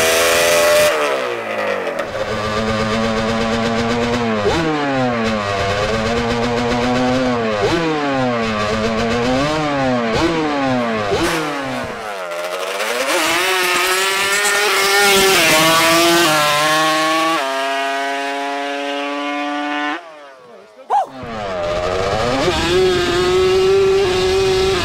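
A Yamaha Banshee ATV fitted with Hoosier slicks screams through its gears on a pass, loud two-stroke revs climbing and dropping repeatedly, close and continuous before a short cutoff and a final rising rev.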